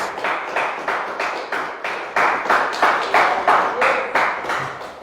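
A church congregation claps in unison, a loud, regular rhythmic beat of about two claps per second carrying on steadily with no talk over it.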